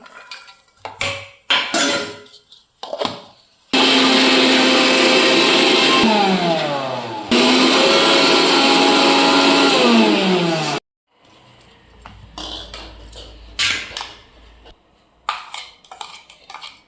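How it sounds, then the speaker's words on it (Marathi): A kitchen mixer grinder blends onion and coconut into a paste, two loud, continuous whirring runs of several seconds each with a short break between, framed by clinks and clatter of the jar and utensils. "आता ह्याला काढूया मिक्सरमधून"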